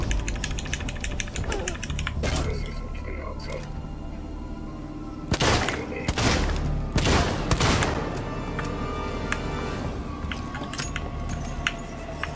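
Gunshots ring out during tense survival-horror gameplay in Alien: Isolation, a few loud cracks standing out against a dense, droning background of rumbling ship ambience, with a player talking over it.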